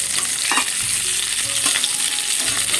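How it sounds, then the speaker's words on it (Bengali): Lentil dumplings (bori) fry in a pan with a steady, close, loud sizzle, broken by a few scraping stirs; no one talks. "এমন করে কি বড়ি ভাজা হবে আদেও?"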